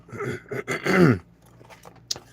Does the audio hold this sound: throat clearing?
yes